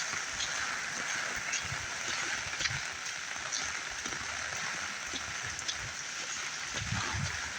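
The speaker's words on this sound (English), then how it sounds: "The rain comes heavy and then it comes lower," Heavy rain from Hurricane Beryl falls steadily as a dense, even hiss with scattered nearby splashes and low rumbles, continuous throughout with no clear talking.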